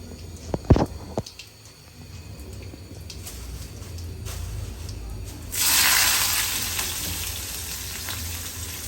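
Cumin seeds hit hot oil with a couple of sharp clatters, then a low crackling fry builds into a sudden strong hiss that stays loud and close for several seconds.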